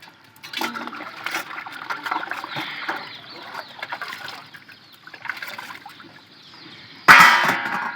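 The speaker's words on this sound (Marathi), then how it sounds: "पाणी येताना पहिल्यांदा उशीर लागते. मुरमातनं मुरत येते पाणी." Water trickles and runs steadily with a soft, splashy hiss, seeping slowly through gravelly soil, then surges into a louder gush near the end.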